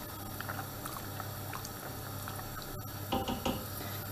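Steady low bubbling and simmering of a pot of ashure (Turkish wheat pudding) on the stove, continuous throughout, with a few brief clinks near the end.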